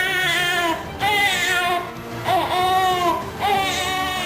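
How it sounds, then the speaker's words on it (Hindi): A three-day-old newborn wails in a hospital ICU, its cries loud and close, coming in repeated long sobbing bursts with brief breaths between. "एक नवजात जो सबसे करीब दिख रहा है वो रो रहा था"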